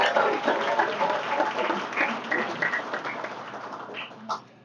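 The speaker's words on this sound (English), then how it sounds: "give a round of applause for all of our winners on the essay" A room of guests at a Law Day lunch applauds essay contest winners, moderate clapping that gradually thins and fades out.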